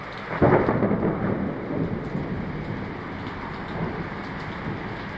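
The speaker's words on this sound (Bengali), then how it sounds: "খুব ভারী বৃষ্টি হচ্ছে।" Heavy tropical downpour in Kuala Lumpur, Malaysia, a dense steady roar of rain with a deep rumble of thunder swelling early on, then continuing as a constant wash of rainfall with no voices.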